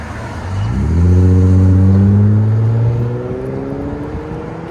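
A 1997 Lexus LX 450 with a 4.5L inline-six and a Borla ProXS exhaust revs up loudly and nearby, its deep drone climbing in pitch, then holds and slowly fades as it pulls away, with no talking.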